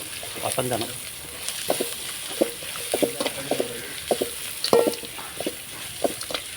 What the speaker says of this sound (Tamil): வேர்க்கடலையும் போட்டு நல்லா வதங்கணும்.